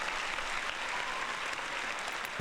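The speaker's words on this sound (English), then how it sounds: "a nice big round of applause" A short burst of crowd applause, steady dense clapping throughout, slightly distant and even in loudness.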